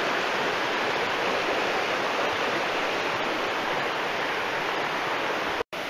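Creek water rushing over small cascades in shade beneath trees at Coker Creek, Tennessee, a loud steady broadband wash that continues unbroken, briefly cut out near the end.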